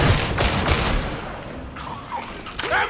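Dense bursts of gunfire in the Warhammer 40,000: Darktide game, loud overlapping shots and thumps in a continuous fusillade, with brief mechanical clicks near the end.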